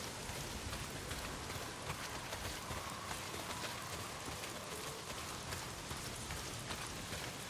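Steady rain pouring down in Days Gone, a dense, even hiss of drops hitting the ground, loud and unbroken from start to finish with no voices.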